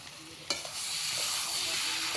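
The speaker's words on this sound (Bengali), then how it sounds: "সব মশলা দিয়ে আলুগুলো ভালো করে ভেজে নিচ্ছে" Potatoes with spices fry in a pan, a steady close sizzle broken by a few stirring scrapes.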